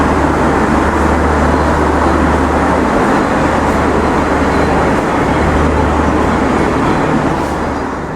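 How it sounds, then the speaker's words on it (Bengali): Inside the power car of the Rupsa Express intercity train, a loud continuous rumble with a steady low engine drone holds throughout, with no talk over it. "আন্তনগর রূপসা এক্সপ্রেসের পাওয়ার কার।"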